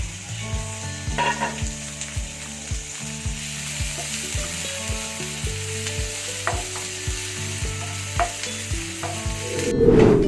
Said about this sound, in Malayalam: ഇനി നമുക്ക് ഇതിലേക്ക് ഇഞ്ചി വെളുത്തുള്ളി ചതച്ചതിട്ട് കൊടുക്കാം പിന്നെ പച്ചമുളക് കറിവേപ്പില ഇതെല്ലാം കൂടെ ഒന്ന് വഴച്ചു കൊടുക്കാം